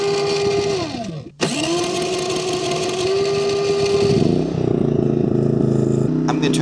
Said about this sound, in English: we'll see how this MaxPeedingRods generator performs under load